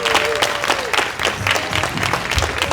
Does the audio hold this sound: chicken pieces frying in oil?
no